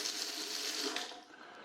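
Filtered drinking water pours from a 4-in-1 boiling water tap with a pull-out hose, running steadily up close for about a second before trailing off.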